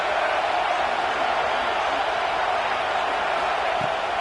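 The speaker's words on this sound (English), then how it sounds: "Crowd alive." A college football stadium crowd during a Tar Heels red-zone play gives a steady, loud, wall-like roar that holds without a break from start to finish.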